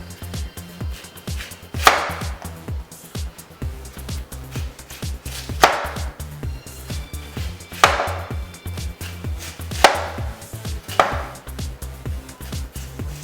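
A knife slices an onion very thinly on a board, producing rapid, even close-up chopping taps with a few louder thuds spaced every couple of seconds.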